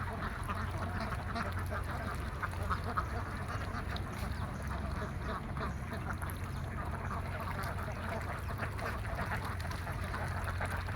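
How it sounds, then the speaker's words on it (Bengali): A large flock of around a thousand Khaki Campbell ducks on a village duck farm in Kaliganj, Gazipur, quacking in a continuous dense chorus, with many overlapping calls near and far and no break throughout. "খাকি গেমের প্রায় 1000 হাঁস এখানে সদ্য ডিমে আসছে মাত্র"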